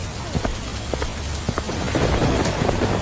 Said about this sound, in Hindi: बारिश पहले के मुकाबले बहुत तेज हो चुकी थी।